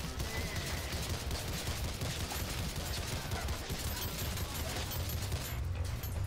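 Rapid assault rifle gunfire in a GTA-style survival shooter game, a steady dense stream of shots running throughout at moderate level.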